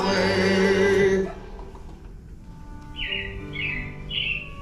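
Animatronic robins in the Carousel of Progress show at the Magic Kingdom chirp in a few bright, repeated whistled bursts after a loud passage of music fades out.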